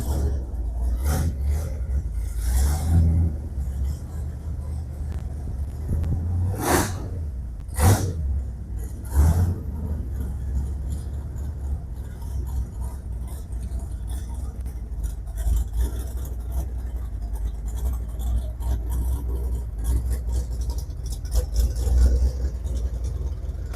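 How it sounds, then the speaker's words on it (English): A restored, customized drop-top Ford Falcon with a 289 V8 idles with a deep, steady rumble. Several sharp revs burst out early on, and then the engine settles back to a lumpy idle nearby. "Ah, car sounds great."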